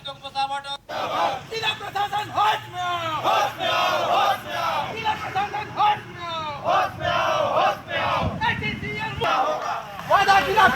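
Displaced landowners protesting outside the SECL Kusmunda GM office in Chhattisgarh chant slogans in unison, a loud rhythmic crowd of voices rising and falling in repeated call-and-response phrases, close and continuous.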